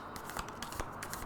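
Cards being shuffled for a tarot-style reading, a quick run of soft riffling flutters and snaps, close and fairly quiet with no talking.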